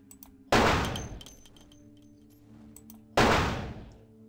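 Two loud, heavy gunshots from the video game Vampire: The Masquerade – Bloodlines, roughly two and a half seconds apart, each with a long reverberant decay, against a faint low background hum.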